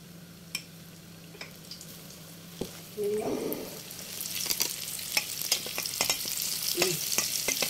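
Spicy food dropped into a hot pan, with a burst of frying that settles into a steady close sizzle with small crackles and stirring sounds, no talking.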